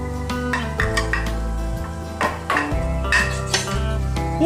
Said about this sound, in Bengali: ভালো করে এটাকে আমি এখন নেড়ে নেব।